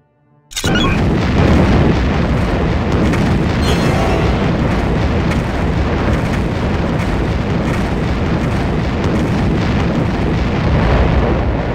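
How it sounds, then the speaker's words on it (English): A bomb pump laser powers up in Star Wars Jedi Knight: Dark Forces II, starting with an abrupt heavy boom and then a loud, sustained roaring rumble that stays steady. "Danger. Bomb pump laser activated."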